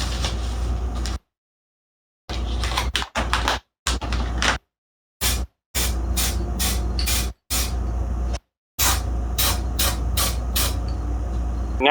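Primer sprayed from an aerosol can onto Mustang parts in bursts of hissing spray, roughly ten short and long blasts separated by brief silences, close and steady.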